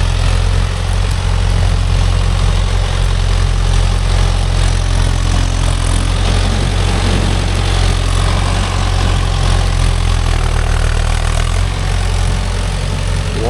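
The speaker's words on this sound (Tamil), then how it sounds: "வண்டி ரிவேஸ் எடுக்கும் போது தான் வண்டி வாளுன்னு கத்துது" A Mahindra Yuvo Tech Plus 585 4WD tractor running with a 42-blade Gomathi rotavator, its diesel engine giving a loud, steady low rumble with churning mechanical noise, close by and continuous throughout.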